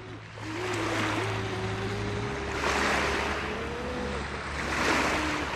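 Ocean waves wash and surge around a boat on open water, with wind rumble and a droning motor tone underneath, swelling in loudness every couple of seconds.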